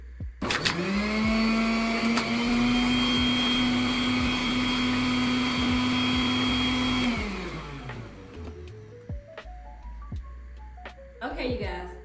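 An electric mini juicer whirs loudly with a steady motor drone for about seven seconds while ginger is pushed through with a food pusher, then winds down and stops, followed by clicks as a person talks.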